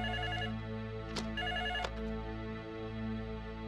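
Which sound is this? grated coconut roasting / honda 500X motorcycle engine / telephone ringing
telephone ringing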